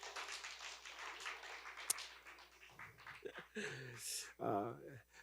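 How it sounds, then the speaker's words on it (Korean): A church congregation at a Korean Sunday worship service claps together in a brief burst of applause that fades into a voice speaking. "박수 한번 하겠습니다. 박수."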